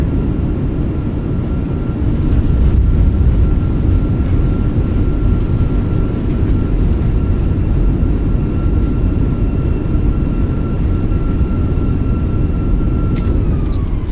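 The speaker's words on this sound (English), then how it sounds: "Nose down gently, reversers are out, decelerating, maintain center line." Airliner in Microsoft Flight Simulator 2024 rolling out after landing with thrust reversers deployed, a loud continuous engine roar with a steady whine over it, tapering slightly at the end, no talk.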